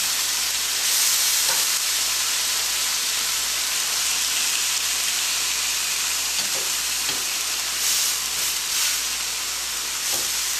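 Steak sizzles on a grill in a steady, bright, close hiss that runs the whole time. Faint pops and crackles break through now and then, and no one talks.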